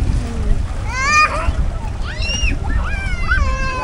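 People swimming and splashing in a lake, water sloshing and splashing under excited voices and children's chatter, with loud shouts throughout.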